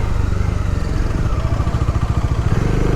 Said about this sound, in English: So I'll start my bike, warm it up